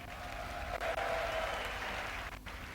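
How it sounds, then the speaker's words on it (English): A large esports crowd roars and applauds after a StarCraft match, a dense, loud, continuous wash of clapping and cheering that holds steady for the whole stretch. "you can hear the crowd roaring after that type of match that he just lost"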